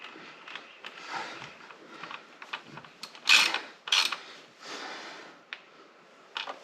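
A ratchet wrench turns the last bolt during a PCV valve repair on an engine, giving close, intermittent clicking bursts with a couple of sharper louder clicks and no talk.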